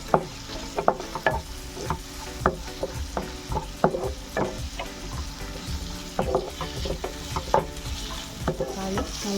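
Chopped small tomatoes frying in a pan for tomato rice sizzle steadily while a spoon stirs, scraping and clicking against the pan in irregular sharp taps, close and clear with no talking.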